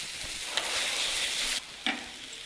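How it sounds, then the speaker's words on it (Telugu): Tomato pieces sizzle in a hot pan for wheat rava upma, a steady close frying hiss broken by a couple of brief stirring scrapes. "అలాగే కట్ చేసి పెట్టుకున్న టమాటా ముక్కలను కూడా వేసుకున్నాం."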